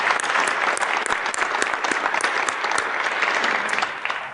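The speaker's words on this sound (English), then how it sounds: "Let's give our volunteers a big round of applause." A big round of applause for volunteers at a college homecoming alumni awards ceremony: sustained, crisp clapping from a full audience, even and loud throughout, easing a little at the very end.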